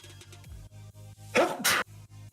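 A single sharp human sneeze in two quick bursts over quiet looping background music from a modded Minecraft game.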